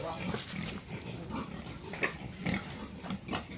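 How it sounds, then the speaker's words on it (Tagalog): Pigs on a fattening farm grunt and snort in short, scattered bursts over a busy, noisy background, with people talking nearby. "Yan ang mga baboy."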